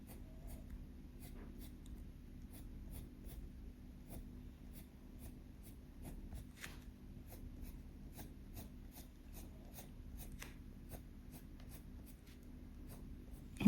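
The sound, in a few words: colored pencil flicking strokes on paper, coloring grass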